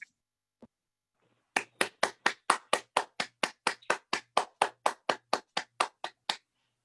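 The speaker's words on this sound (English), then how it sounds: "a big round of applause to all of our much deserving awardees." A single pair of hands claps for awardees at an online scholarship and awards presentation. About twenty evenly spaced, crisp claps sound close and alone, with no crowd behind them.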